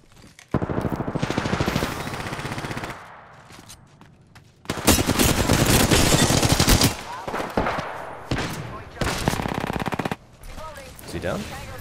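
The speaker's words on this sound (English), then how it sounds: "Burst fire with the prowler." Prowler burst fire in the video game Apex Legends: loud, dense bursts of rapid automatic gunfire in several long stretches, separated by brief quieter gaps with scattered effects.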